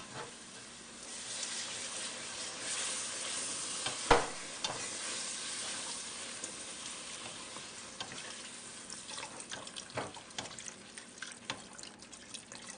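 Sausage gravy is stirred in a pan with soft, quiet scraping and faint bubbling, broken by one sharper clink of the utensil against the pan about a third of the way through.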